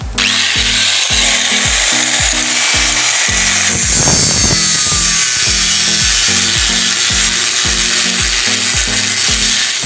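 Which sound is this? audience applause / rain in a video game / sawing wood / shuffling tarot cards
sawing wood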